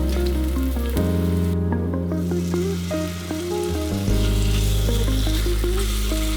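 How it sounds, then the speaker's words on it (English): Ginger slices sizzle steadily in hot oil in a pan over medium-high heat, a loud continuous close crackle with a low hum and small shifts as the pan is handled, no talk. "add the ginger slices to the oil and let them sizzle briefly to release their flavor"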